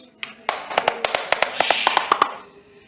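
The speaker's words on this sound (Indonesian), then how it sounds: "Tepuk tangan buat Ninis." Scattered hand claps from a small audience at a talk, cheering for a presenter named Ninis: a dozen or so sharp, irregular claps over about two seconds, fairly close, then fading out.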